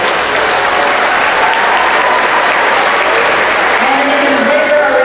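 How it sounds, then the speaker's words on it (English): Sustained crowd applause fills a high school gym during a basketball game as seniors are honored, a dense, steady roar of clapping throughout with a voice faintly audible beneath. "And an even bigger round of applause for all of our seniors."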